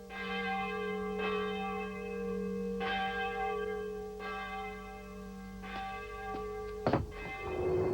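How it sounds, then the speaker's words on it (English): Slow, regular strokes of a deep church bell ring out alone, each toll humming and lingering into the next. "There is no one ringing our bell."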